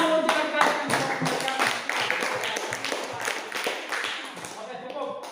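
A classroom of students clapping their hands in a steady, dense burst of applause that lasts throughout, with voices mixed in.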